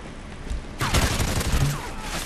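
A burst of gunfire from a gun in the shooter game Ghost during a free-for-all match, a crackly, foil-like rattle of rapid close shots that starts abruptly and fades out.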